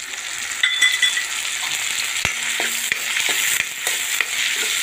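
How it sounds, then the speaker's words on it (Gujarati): Paneer and vegetables fry in a pan with a steady, loud sizzle, broken by occasional scrapes and clinks of a spoon stirring against the metal. "આને પણ સરસ ફ્રાય થઈ જવા દઈશું આપણે"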